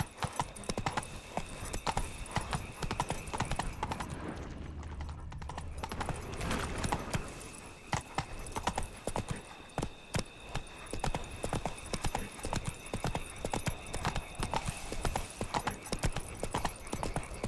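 Roach, a horse in The Witcher 3, gallops in a steady rapid clip-clop of hooves that runs under game ambience for the whole stretch, loud and close.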